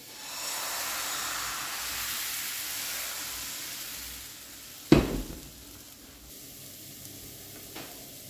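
Steady close sizzling of Russian blini pancake batter frying in a pan, with a sharp clatter midway and a quieter clink near the end.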